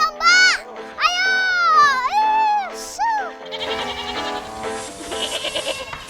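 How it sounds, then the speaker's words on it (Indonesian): Sheep bleating loudly on a farm in Purwakarta, West Java, several drawn-out wavering calls in quick succession, followed by a busier mix of flock noise and background activity. "keseruan angon domba di daerah Purwakarta, Jawa Barat"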